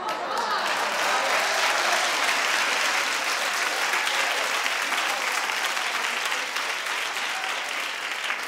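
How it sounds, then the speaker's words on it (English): A television talk-show studio audience applauds continuously, a dense, loud and even roar of clapping that holds steady for several seconds. "Red, only me and you aren't clapping. Everybody else is down with it."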